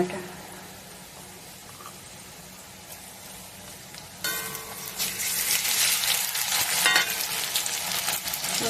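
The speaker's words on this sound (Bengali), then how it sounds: "আমার পেঁয়াজটা লাল লাল করে ভেজে নেব" Onions with cinnamon fry in hot oil. A gentle sizzle suddenly swells into loud, bright crackling halfway through as they are stirred, with a voice briefly audible.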